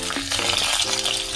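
Crab pieces dusted with starch frying cut side down in hot oil with ginger in a Zhaoqing clay pot, a steady close sizzle with faint stirring and clinks throughout.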